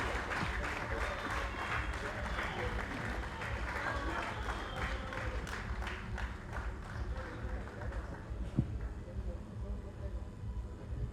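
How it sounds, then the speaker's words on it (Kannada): Audience at a stage event applauding, rapid scattered clapping from a crowd mixed with voices and chatter, fairly quiet and steady throughout. "ದಯವಿಟ್ಟು ಅದೇ ಸೌಂಡಿಗೆ ನಿಮ್ಮೆಲ್ಲರೂ ಚಪ್ಪಾಳೆ"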